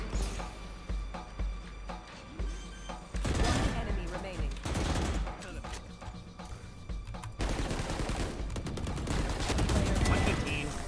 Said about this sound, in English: They shot at your decoy.